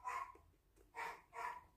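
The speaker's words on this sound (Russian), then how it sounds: "Собака начинает гавкать, я знаю, кто это гавкает." A dog barks outdoors, three moderately distant, mid-pitched woofs spaced about half a second apart against a quiet background, with no one speaking.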